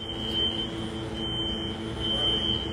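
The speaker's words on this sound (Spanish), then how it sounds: "Ah, la alarma de incendio, ya me habían asustado." Fire alarm sounding inside a building, a steady high-pitched electronic tone continuing through the moment with short breaks, moderately loud against a quiet room hum.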